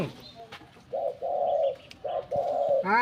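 Birds coo in several low, rounded phrases, close by, with a brief higher chirp at the end and faint background noise.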